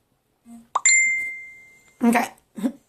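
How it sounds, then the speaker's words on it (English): A phone notification sounds as a short bright two-tone chime with a sustained ring, heard alone in a quiet room during a sewing demonstration on setting a sleeve into a garment, with brief bits of voice after it. "I wish I could turn off those notifications because I know they're going to be coming in"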